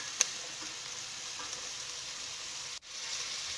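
Carrots go into a pan already hot with oil for a barley soup with wild thyme, giving a steady, close sizzle with a brief clatter at the start and a short break near the end.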